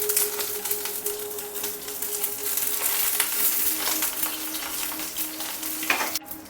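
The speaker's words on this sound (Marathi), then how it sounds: "तेल गरम झाल्यावर सर्वात आधी यामध्ये मोहरी घालायची कढीपत्त्याची पानं" Mustard seeds and curry leaves crackle and sizzle in hot oil in a pan for a pumpkin sabzi, a steady close-up frying hiss with dense popping that runs throughout, no voices.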